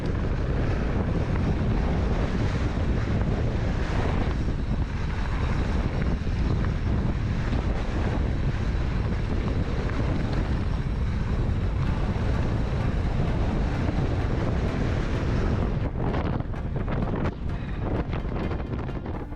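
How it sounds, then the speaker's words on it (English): Strong wind buffets a chest- or chin-mounted GoPro microphone while mountain biking in southern Utah, producing a loud, constant roaring rumble that swamps everything else and eases slightly near the end. "This is crazy wind."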